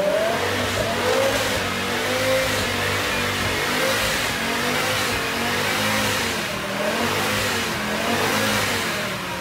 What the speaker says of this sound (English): We started up the car, it revved freely.